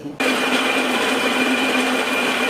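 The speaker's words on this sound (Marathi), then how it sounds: "मला आहे ना अर्धा डाबा भाडा दळायला पाचच मिनिट लागले या गिरणीमध्ये" A home flour mill grinding wheat kicks in abruptly and then holds a loud, steady mechanical whine with a constant motor hum, close and uninterrupted.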